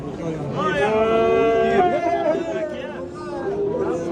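Bulls low with long, loud, harmonic bellows at a busy livestock market in Kattaqo'rg'on, one sustained call stretching across most of the moment over a steady crowd murmur.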